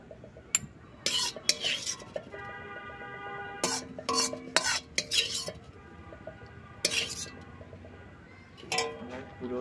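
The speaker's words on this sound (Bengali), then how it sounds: "এইভাবে পুরো মিশ্রণটা ভালো করে ছাঁকনি সাজিয়ে ছেঁকে নেব।" Tomato sauce mixture is pushed through a sieve with a spoon, giving irregular scraping and metallic clinks and taps in short bursts with quiet gaps.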